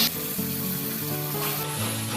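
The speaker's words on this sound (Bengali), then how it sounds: "এবার ফোড়নে দিয়ে দিলাম তেজপাতা আর গোটা গরম মশলা, এলাচি, দারচিনি, লং।" Bay leaf, cardamom, cinnamon and cloves splutter in hot oil as a tempering for a katla fish kalia. A dense, even sizzle runs throughout, with a faint tonal hum beneath it.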